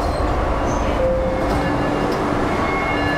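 A Delhi Metro train standing at a station gives a steady rumbling hum with faint high whines and brief tones, loud and continuous throughout with no talk.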